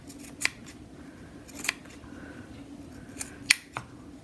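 Scissors snip fabric while trimming around the nose arch of a machine-embroidered contour face mask, three crisp, close cuts spaced a second or more apart over a quiet background.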